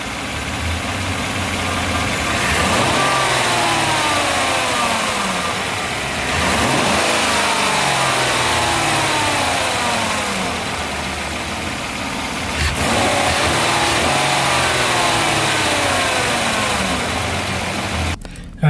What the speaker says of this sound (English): this is from inside of the cab, the noise with the new one on it